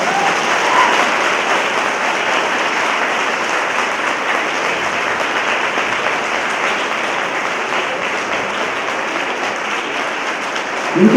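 An audience at the Vivekotsav 2017 lecture event claps in sustained, dense applause that holds steady and loud for the whole stretch without pause.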